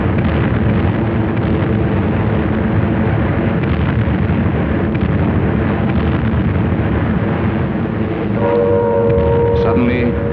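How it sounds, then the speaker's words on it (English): An anti-aircraft barrage fires during the London Blitz in a continuous loud roaring rumble of massed guns, dense and unbroken, with a tonal horn-like drone joining near the end. "our whole barrage opened, accompanied by a blaze of searchlights. This roaring cannonade did not do much harm to the enemy"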